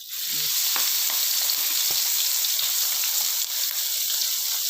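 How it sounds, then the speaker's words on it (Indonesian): Steady, loud sizzling of chili peppers frying in hot oil in a wok, continuous throughout with faint clinks of stirring. "Ini saya gorengnya nggak terlalu lama ini."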